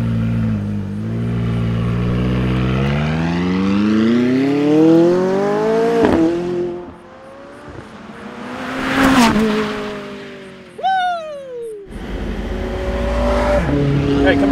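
A limited-production McLaren sports car accelerating hard through rising gear pulls, with engine revs climbing and dropping between shifts, loud and close, and a voice briefly talking over the engine.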